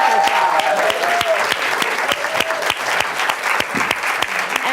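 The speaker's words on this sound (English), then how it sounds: "I want to give a round of applause to all of you because you've done a wonderful job" An audience claps steadily after a set of student presentations, a dense, loud round of applause with some voices mixed in.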